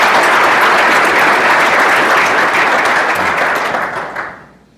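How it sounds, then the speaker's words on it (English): Full, dense audience applause for a panel of speakers at a corporate CFO panel event, loud and continuous, tapering off and dying away toward the end. "If we could have a round of applause for all the great speakers today."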